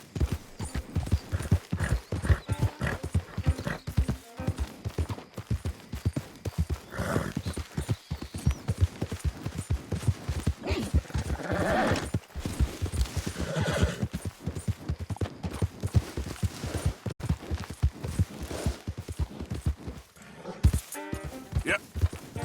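Horse hooves pounding in a fast, dense galloping rhythm in Red Dead Redemption 2, with occasional neighs and snorts breaking through and brief spoken lines over it.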